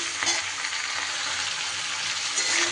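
Vegetables with tomato sizzle in a frying pan for a Chapila fish curry as they are stirred, a continuous close hiss with soft scraping throughout.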